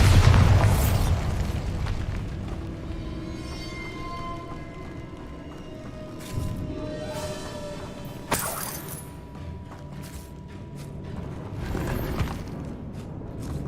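A Bombarda blast spell in the Hogwarts Legacy video game bursts with a loud, heavy boom at the start, then ringing debris, clatter and a few sharp cracks and pops trail off over a long, slowly fading tail.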